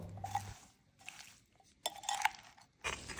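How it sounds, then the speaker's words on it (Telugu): A stainless steel spoon stirs a mixed vegetable pickle in groundnut oil, giving a few short clinks and scraping bursts separated by brief pauses, close by with no talk. "వేసిన వెంటనే స్టెయిన్లెస్ స్టీల్ స్పూన్ తోటి బాగా కలుపుకోవాలి"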